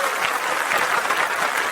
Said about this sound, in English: round of applause on for Shay Shay.